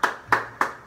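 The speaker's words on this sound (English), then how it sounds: "Insert round of applause here." Three sharp hand claps, evenly spaced and close, ring out alone as a mock round of applause.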